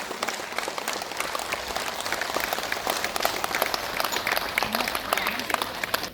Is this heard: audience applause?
yes